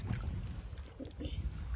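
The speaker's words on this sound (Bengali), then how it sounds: "ও নৌকা চালাচ্ছে আর আমি হাত দিয়ে চালাচ্ছি।" A small rowboat crossing a river near Tyrshi Falls in Shillong, with soft, faint water splashes from paddling and hands dipping in the water under light wind noise, quiet and close.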